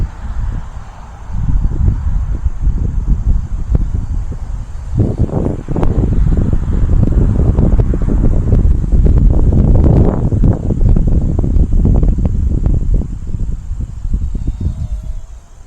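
A UMX Ultrix drone flies in 8 mph wind. Its thin, steady high whine runs faintly throughout beneath loud, gusty wind rumble on the microphone.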